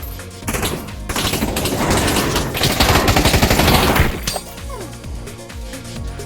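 Rapid automatic gunfire in the VR shooter Pavlov VR on a Counter-Strike map fires in dense, loud bursts, then stops for scattered single shots and clatter.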